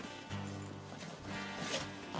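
A zipper is pulled closed on a paraglider reserve container, several short rasping runs heard close and fairly quiet.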